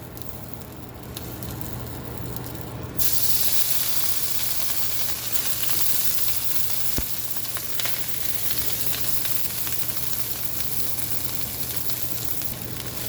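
Shrimp and ham fried rice fries in a hot oiled pan. A quiet sizzle jumps to a louder, fuller crackle a few seconds in, then keeps a steady, close frying hiss with an occasional tap from a utensil. No talking.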